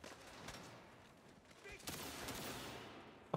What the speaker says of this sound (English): Plasma shotgun, but why?